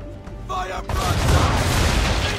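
Naval cannons fire from a sailing warship during a sea battle in Assassin's Creed III, booming in a dense, continuous barrage of overlapping blasts and rumble, loud and close.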